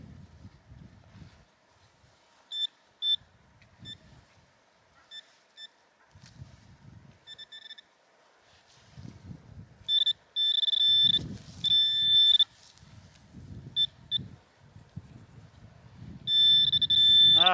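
Metal detector sweeping for coins at a hidden mountain village, giving repeated short electronic high-pitched beeps and tones in bursts, louder toward the end, over low rustling and footsteps in the ground.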